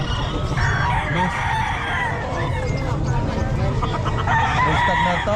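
A rooster (stag) crows amid other fowl clucking at a busy pet market, the calls mid-distance over constant crowd babble and nearby talking.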